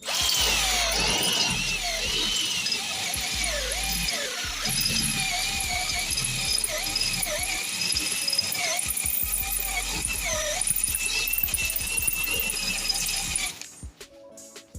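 Power drill bit widening the top of an 8 mm hole into a 10 mm sloped opening, a loud whining, squealing grind that keeps straining and catching for about thirteen seconds before cutting off.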